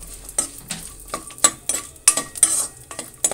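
Almonds and raisins frying in ghee, stirred with a spoon: sharp irregular scrapes and clinks against the pan over a light sizzle, close and distinct, with no voices.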